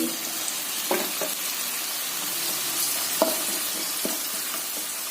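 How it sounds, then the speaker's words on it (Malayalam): Grated rose apple sautés in a pan for pachadi, a soft steady sizzle with a handful of brief scraping stirs spaced through it, fairly quiet and close. "ഇതിലേക്ക് ചാമ്പങ്ങ ഇട്ട് വഴറ്റുന്നു."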